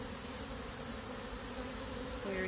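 Honey bees at an open hive, mostly nurse bees, make a dense steady buzzing drone that stays close and even for the whole short stretch, with no talking.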